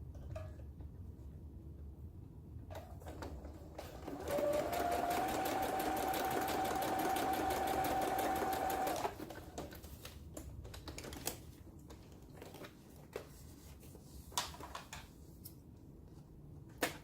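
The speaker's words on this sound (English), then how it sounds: "Now I'm just going to stitch it right along here and there" A sewing machine stitches through junk journal pages in one continuous rapid burst of about five seconds, bracketed by quiet handling clicks before and after.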